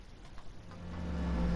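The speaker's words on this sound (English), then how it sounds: "Listening to the actual car itself, it sounds very aggressive" A race car engine in a racing sim game revs up, the low drone swelling steadily louder over a second and a half, heard alone without talk.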